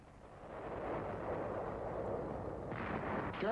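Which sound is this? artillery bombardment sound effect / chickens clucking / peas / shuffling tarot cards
artillery bombardment sound effect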